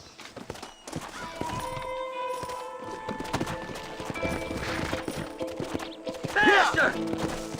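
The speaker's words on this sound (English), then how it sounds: "Horses are over here!" Horses' hooves clip-clop steadily in the Red Dead Redemption video game, a continuous walking rhythm mixed with other game sounds and a brief whinny-like cry near the end.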